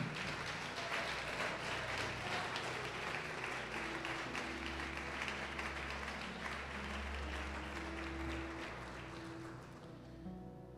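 A church congregation claps together after the sermon, a sustained, fairly distant wash of applause lasting about ten seconds with a steady low hum underneath, fading slightly at the end.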